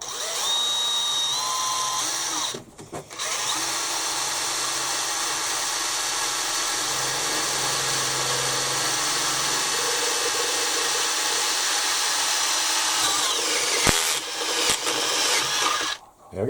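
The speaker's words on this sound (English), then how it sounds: "Wonder if I can pick it up with this cone drill" A cone drill bores holes in metal parts for a milling machine's X-axis power feed, whirring steadily and fairly close, with brief pauses as the bit lifts clear and then bites again.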